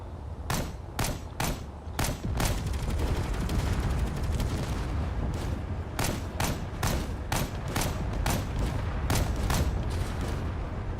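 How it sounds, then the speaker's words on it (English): Heavy machine guns firing in a Space Engineers battle, with dense, sustained bursts of loud gunfire and sharp repeated cracks over a constant rumble of combat. "Hopefully those heavy machine guns get up close."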